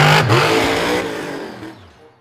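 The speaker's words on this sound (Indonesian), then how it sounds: "Wow, ini mobil monster." A toy monster car's engine sound revs loudly at first, then winds down and fades over a couple of seconds, standing alone without talk.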